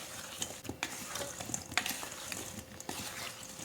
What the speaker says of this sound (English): I'm gonna add just a little bit more extra virgin olive oil and then I'm gonna stir